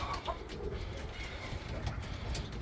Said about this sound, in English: He is out of a family of Jansen barless birds